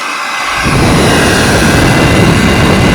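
A loud, steady vacuum cleaner motor roars after a quiet start, a constant rushing whine of airflow with no talking.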